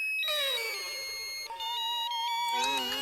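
A phone rings in a busy household, its electronic tone repeating in bright, steady bursts with some shifting pitches, close and fairly loud, with no voices over it.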